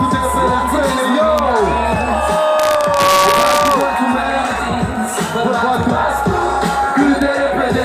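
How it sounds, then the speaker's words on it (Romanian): A festival crowd cheers, whoops and shouts at a concert set at Underval Festival 2017, a loud, dense roar of many voices that continues steadily throughout. "Aplauze pentru Bogdan Simion"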